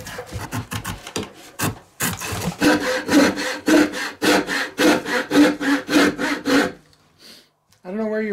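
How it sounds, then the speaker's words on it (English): Hand saw cutting through wood while building a home-made rocking chair, a steady run of loud, rhythmic back-and-forth strokes close by, trailing off into quiet with a brief voice at the end. "when I'm sawing, all the action is right here"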